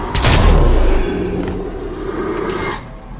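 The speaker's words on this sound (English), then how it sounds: "Gunshots in my vicinity." A sharp, loud gunshot-like boom at the start, followed by a fading metallic ring and a second softer burst, with synthetic game-like tones, from the video game Hitman: Absolution.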